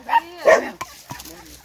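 A dog barks a few times at a rural home in the forest, short yapping calls with a whimpering rise, close and fairly loud, followed by quieter rustling and faint sounds.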